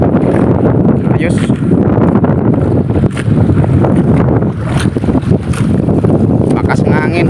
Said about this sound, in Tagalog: Lakas yung hangin mga kabads kasi may dalang ulan,